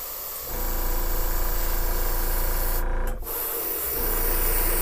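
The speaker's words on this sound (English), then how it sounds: "I'm going to spray in it just to make sure my air pressure and paint's starting to come out" A steady, loud hiss of a paint spray gun painting a fishing lure runs for several seconds, briefly dropping out once before resuming, with a low machine hum beneath.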